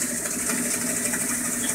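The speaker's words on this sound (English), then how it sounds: "Actually, it's on the spin cycle now, spitting the water out." A Haier HLP23E portable washing machine on spin cycle gives a continuous close whirring, rushing noise with a low underlying hum, steady and unbroken throughout.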